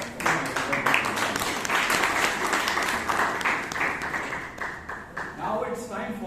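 Applause at a Toastmasters club meeting, a room of members clapping steadily for several seconds, fairly close and dense, with some voices underneath.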